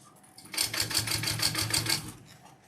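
A sewing machine joins bag pieces in one quick run: a rapid, even clatter of needle strokes lasting just over a second, close and clear, with silence before and after.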